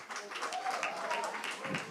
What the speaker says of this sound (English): Come on, let's give them a big round of applause.